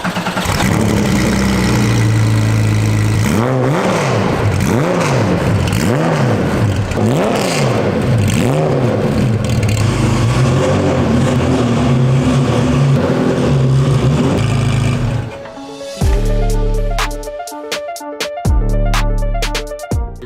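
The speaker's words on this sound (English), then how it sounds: "we're gonna get a sound check of this exhaust on the car currently" A Porsche 911 964 RS America on a near straight-piped race exhaust, raised in the air, idles loudly with repeated rising and falling revs, then settles into a choppy, lumpy idle with sharp throttle blips toward the end.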